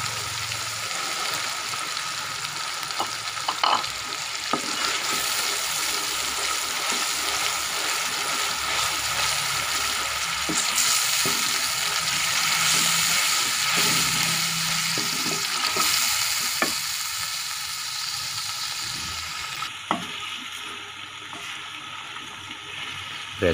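Onion, garlic and green chilli paste frying with tomato paste in a pan, a steady broadband sizzle running continuously with occasional stirring clicks, close and fairly loud throughout.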